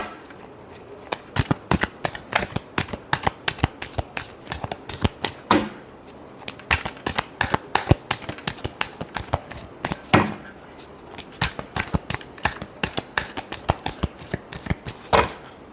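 Tarot cards shuffled by hand, a dense run of crisp riffling clicks and flutters in quick irregular bursts, close and fairly soft, with no voice over it.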